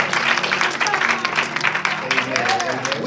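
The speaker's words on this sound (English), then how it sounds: "Let's give the Lord a hand clap." A church congregation claps their hands in a dense, steady burst of applause, with voices calling out over the clapping throughout.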